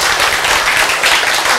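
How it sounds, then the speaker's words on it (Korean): A lecture audience claps in a brief, dense burst, loud and continuous for the whole moment with no voice on top. "이럴 땐 박수 한번 쳐야지"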